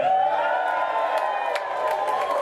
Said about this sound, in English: Good evening, right side, and thank you so much for coming. Let's have a big cheer.